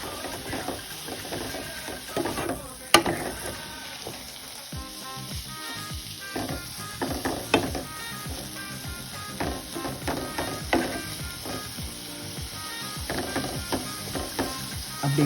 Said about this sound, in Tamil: மீடியம் ஃப்ளேமில் வச்சு காயை நல்லா வதக்குங்க.